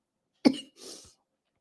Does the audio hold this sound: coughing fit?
yes